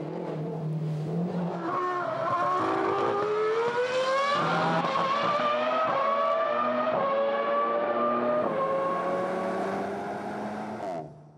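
Renault Sport performance engine roaring loudly and continuously, revving up through several rising gear pulls with brief dips between shifts, close and alone for the full length before cutting off at the end.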